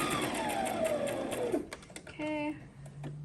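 A sewing machine runs down the center of a seam on a twisted head wrap, finishing with a back stitch: a steady rapid whir of stitches, then a short pause and a brief burst, with a voice talking over it nearby.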